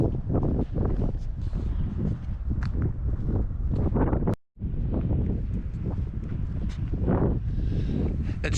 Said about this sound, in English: It's super windy here, folks.